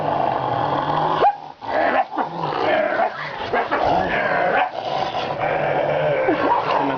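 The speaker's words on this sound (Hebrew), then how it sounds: "לא נובח, אתה נוהם." A dog growling steadily and close, with a few brief gaps and yips mixed in, during a birthday gathering; the growl rumbles on and off for several seconds without clear barking.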